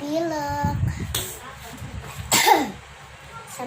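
A child with a cold coughs a few times in short bursts, close and fairly loud, amid some speech-like vocal sounds.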